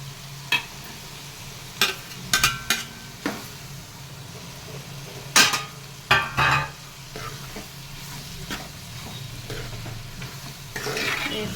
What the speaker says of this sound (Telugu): వేసుకొని బాగా కలుపుకుందాం.